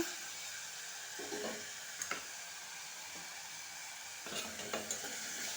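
Bitter gourd fries in hot oil in a pan, a soft continuous sizzle broken by a few stirring scrapes and light clicks of utensil against the pan.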